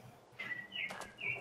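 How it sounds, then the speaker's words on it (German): Bird chirping outdoors on a balcony: a few short, high tweets spaced over a second or so, fairly faint against quiet background hiss. "Aber ist ein Vogel auf unserem Balkon oder was?"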